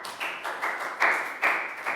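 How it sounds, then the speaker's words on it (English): Applause for a student in a primary English lesson: a short burst of rhythmic clapping, about six evenly spaced claps, close and fairly light, with no talk over it. "Big round of applause for let go."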